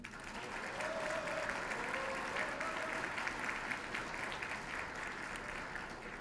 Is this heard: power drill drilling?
no